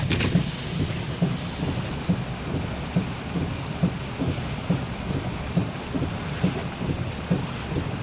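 Heavy rain pours during a flood in Winnsboro, Texas, making a dense, continuous wash of noise with a low rumbling pulse underneath. It sounds close and steady throughout.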